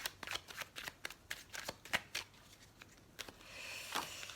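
Tarot cards shuffled by hand in a quick run of crisp riffling bursts, close and moderately loud, with no talking over them.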